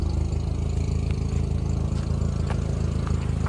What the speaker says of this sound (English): You hear the exhaust right here.